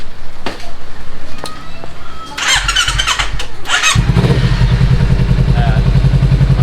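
A motorcycle engine with its check-engine light on cranks with a few clunks and a whining starter, then catches and settles into a loud, close idle, with a voice speaking briefly near the start.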